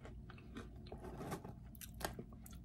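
Crunchy bites and chewing of a cinnamon crisp cereal snack, close and quiet, with several crisp crackling bursts in quick succession and no talking.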